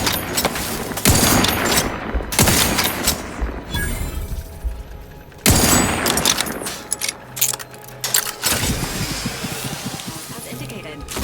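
Rapid bursts of gunfire from The Outer Worlds 2 on Xbox Series X, loud volleys coming in several waves with short pauses between them, set among other game effects.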